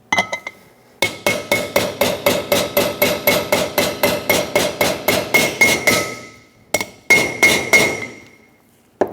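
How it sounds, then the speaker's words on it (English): A hammer strikes a punch to seat a front wheel bearing race in the hub of a 1995-2004 Toyota Tacoma 2WD: close, loud metallic blows in a steady, rapid rhythm of about three per second, with a brief pause before a final burst. "so to correct it before it gets too far, I'm going to use my punch"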